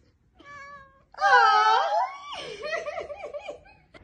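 A cat meows loudly and repeatedly at close range, drawn-out wavering calls followed by a string of shorter chattering meows.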